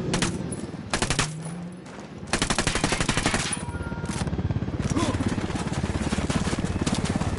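Automatic gunfire in the tactical shooter game Ghost Recon Wildlands, with loud, close, rapid bursts of rifle fire that run into a long continuous volley, punctuated by brief pauses.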